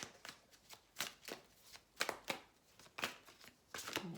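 Tarot cards are shuffled in short, crisp riffles, about one burst per second, close and quiet with no talk.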